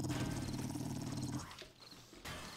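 A dog growls in a video game, a low rumbling snarl that is loud at first and then fades, with game ambience continuing after it.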